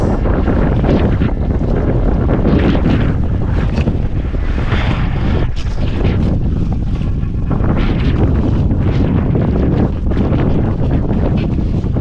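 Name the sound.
strong wind blowing into the microphone at sea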